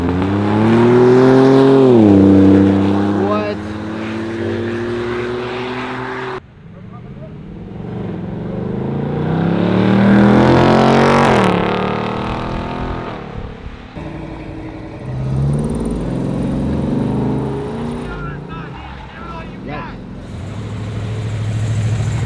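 Cars pull out of a Cars & Coffee meet in Roxboro, engines loudly revving and accelerating past in several separate runs with quieter gaps between, voices talking faintly beneath.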